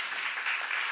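Audience applause at a church seminar, a brief burst of many hands clapping together, moderately loud and steady for under a second.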